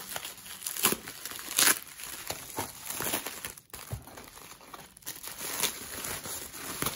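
Sealed Pokémon Diamond & Pearl Platinum booster packaging being unwrapped, with close crinkling and crumpling of plastic film broken by a few sharp tearing bursts, all fairly quiet and without speech.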